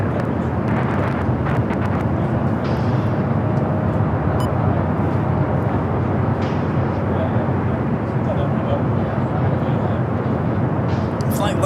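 Airliner taxiing at LAX airport, an Air China jet bound for Beijing: a steady, loud broadband engine roar with wind rumble that fills the whole stretch without letup, with no speech heard.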